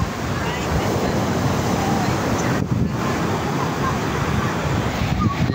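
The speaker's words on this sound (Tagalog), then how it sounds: "malalaki ang alon ng habagat dito" Large monsoon waves roll onto a beach at high tide at a resort in Lemery, a loud, steady roar of surf mixed with heavy wind buffeting the microphone.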